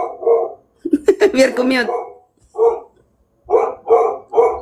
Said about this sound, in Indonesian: Kena apa nanti suara guguk ini?